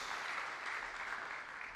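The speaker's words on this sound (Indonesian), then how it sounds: "Tepuk tangan buat Tuhan Yesus." Continuous clapping from a church congregation, a brief even wash of applause at moderate distance, without talk over it.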